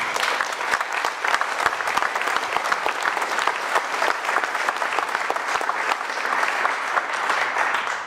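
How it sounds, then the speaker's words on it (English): Conference audience at a Bitcoin talk gives a round of applause, a steady, loud wash of many hands clapping with distinct nearby claps, holding evenly for about eight seconds before tapering at the end. "round of applause for that team"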